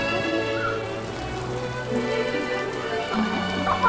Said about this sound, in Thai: เปียกหมดเลย ฝนตกไปไป